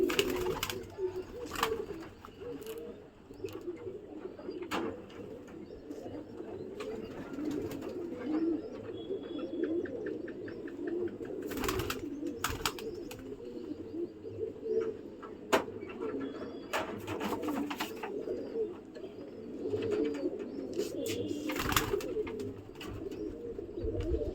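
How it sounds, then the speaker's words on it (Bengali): Pigeons being released one by one make steady low cooing and burbling throughout, with occasional brief wing flaps and sharp knocks, close and moderately loud, with no talk. "সব এক এক করে পায়রা ছাড়া হচ্ছে।"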